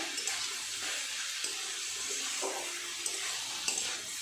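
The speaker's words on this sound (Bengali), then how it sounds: "সসের বাটি ধুয়ে অল্প একটু জল দিয়ে দিলাম" Water poured from a rinsed sauce bowl into a chili fish mixture made with pangas fish, giving a steady close wash of splashing and gentle sizzle, with brief stirring clinks, no talking.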